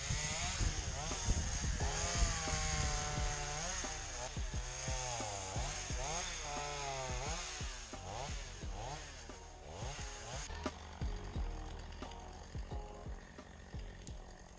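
Chainsaw cutting deadwood while clearing a wooded property line, its engine loud and continuous and rising and falling in pitch as the throttle revs and the chain bites into the wood.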